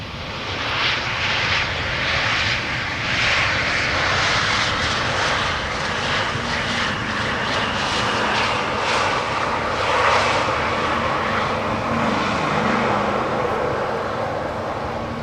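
An airliner on short final for landing at Amsterdam Schiphol Airport, a KLM flight arriving from London Heathrow, gives a loud, steady jet-engine roar that holds throughout with slight swells and no voices.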